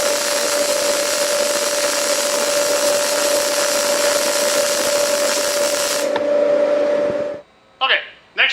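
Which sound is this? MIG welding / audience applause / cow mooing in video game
MIG welding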